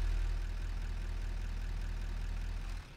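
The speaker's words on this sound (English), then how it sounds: "we're going to get in the tractor" A tractor engine idling in the factory-building game Satisfactory, a steady low throbbing rumble that holds even and then drops off at the end.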